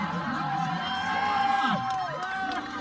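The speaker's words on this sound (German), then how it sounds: "Applaus hier für die beiden Kontrahenten." A rodeo crowd cheers and whoops at a steady, fairly loud level, with excited shouts rising above the general roar and voices talking underneath.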